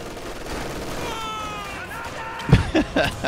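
Grenade blasts and gunfire from a Company of Heroes 2 battle, with a steady game soundscape and a cluster of sharp, loud bursts near the end.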